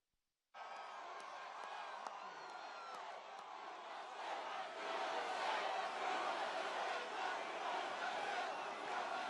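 Large rally crowd cheering and roaring continuously, loud and dense, swelling slightly toward the end after a brief silent start.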